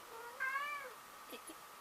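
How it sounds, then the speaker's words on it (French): A cat gives a short, faint meow indoors, one rising-and-falling call followed by a couple of softer chirping sounds, with no talking over it. "je ne sais pas si vous en avez entendu, le miaou"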